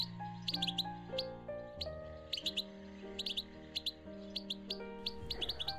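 Sparrows chirp on branches in a warm spring setting, repeated short high tweets in small clusters over a steady musical backing of sustained tones.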